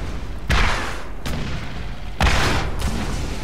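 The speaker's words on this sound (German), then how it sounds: "Ich höre auch die ganze Zeit irgendwas explodieren." Explosions in the video game Borderlands, fired from a rocket launcher: two heavy booming blasts about two seconds apart, each with a sharp onset and rumbling decay over steady game background noise.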